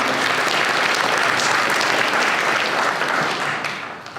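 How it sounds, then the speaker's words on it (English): Sustained applause from an audience at a community candidates event, thick even clapping from many hands that holds steady, then fades out toward the end. "We can get a round of applause."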